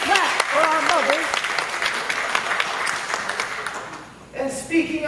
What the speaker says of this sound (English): Let's give a hand clap for our mothers.